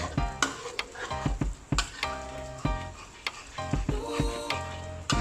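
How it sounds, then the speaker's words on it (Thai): Egg stir-fried with curry crab ingredients in a pan, lively sizzling with frequent sharp spatula clanks and scrapes against the metal, close and busy throughout. "ไข่ลงไป แล้วก็ผัดส่วนผสมทั้งหมดนะครับ ให้เข้ากันเลย"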